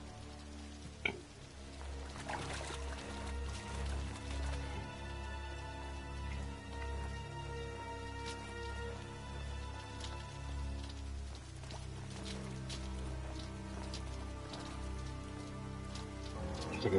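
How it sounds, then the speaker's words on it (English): Continuous rain in the video game Final Fantasy XV hisses and patters over a low steady hum, with occasional ticks and clicks, at an even moderate level for the whole stretch. "Looks like it's raining again."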